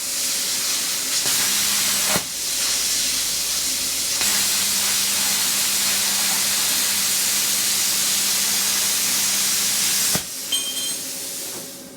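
A Yes Welder all-in-one machine's plasma cutter slices through metal, loud steady hissing that runs for long stretches, cutting out briefly twice before restarting, and ends with a short airflow tail.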